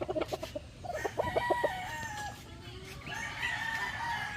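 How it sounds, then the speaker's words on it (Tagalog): Chickens and chicks on a range poultry farm cluck and crow close by, with busy overlapping calls and a higher chirping chorus in the background. "Dito po namin binababa yung mga sisiw po namin."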